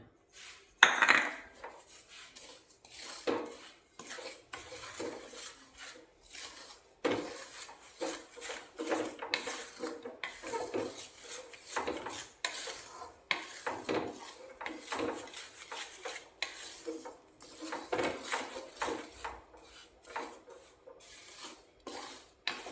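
Spoon scraping and clinking in a bowl as sugar is mixed into a chilli and ginger pickle, a close, irregular run of metallic scrapes and knocks with brief pauses.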